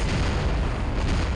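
A gunshot in the video game No One Lives Forever, a loud close boom with a broad rumbling tail that fills the short moment on its own.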